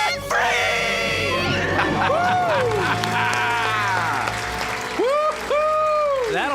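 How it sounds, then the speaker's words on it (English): A couple lets out a loud, sustained joint scream of celebration after becoming debt-free, with rising and falling wailing pitches and crowd noise throughout, plus a couple of shorter yelps near the end. "Let's hear a debt-free scream."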